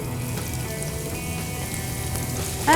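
Sliced onions saute in ghee and oil for a seafood biryani, giving a continuous, even sizzle and crackle, close and fairly loud, with no talking over it.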